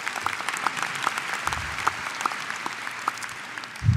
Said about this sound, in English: Quick applause.